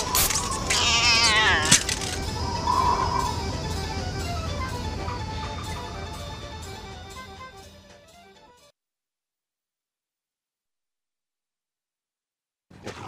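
Animated film cat howling and caterwauling loudly for several seconds in long wavering wails, then abruptly cut to silence, with a brief sound returning at the very end.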